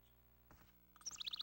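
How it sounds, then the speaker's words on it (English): Birds chirping as game ambience in Herdy Gerdy on PS2, a few quick high tweets emerging near the end over a faint tonal music bed, soft and close. "Watch the clouds go by, listen to the birds."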